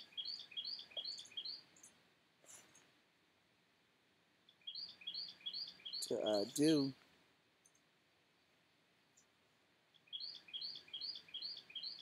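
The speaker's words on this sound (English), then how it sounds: "Y'all hear them birds, y'all?" Small birds outdoors give bursts of rapid high chirps, repeated in clusters at the start, middle and end, faint and quiet, with a brief voice speaking in between.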